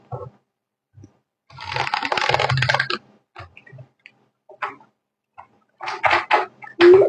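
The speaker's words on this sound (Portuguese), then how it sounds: "Estou embaralhando o tarô." Tarot cards being shuffled by hand, a dense rustling riffle lasting about a second and a half, followed by scattered soft card taps and slaps and a second burst of shuffling near the end, close and fairly loud with no talk.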